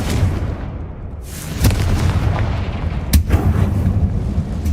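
Booming blasts from a Confringo fire spell in Hogwarts Legacy, with two sharp explosive bursts standing out over a continuous rumbling battle backdrop.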